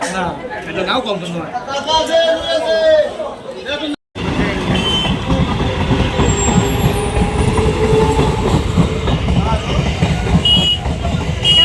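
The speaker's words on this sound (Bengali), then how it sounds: "দাঁড়িয়ে আছি, ট্রেন যাচ্ছে, ট্রেনটা পার হলে তারপরে যাবো।" A train rolls past loud and close with a continuous heavy rumble and rhythmic clatter of wheels, while people nearby talk over it, opening with chatter before the roar takes over.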